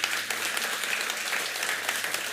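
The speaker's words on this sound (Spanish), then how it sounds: "Demos un aplauso a nuestro Dios." A church congregation applauds at the close of a service, a steady wash of many hands clapping at moderate volume throughout, with no distinct voices.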